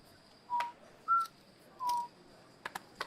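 A person whistles the Hunger Games Rue whistle, three clear, short tonal notes with pauses between them, followed by a few faint clicks.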